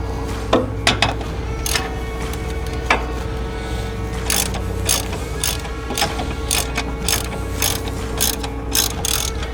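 A hand ratchet tightens bolts on a car in a garage, giving repeated quick clicking runs in short bursts with brief pauses between strokes, close and fairly loud.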